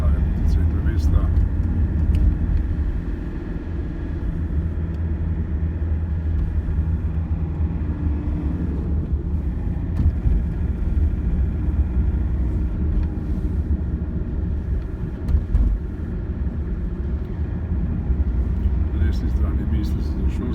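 Car driving through Ljubljana city traffic, turning from Njegoševa onto Masarykova street toward the centre: a steady low engine and road rumble throughout, with someone talking over it.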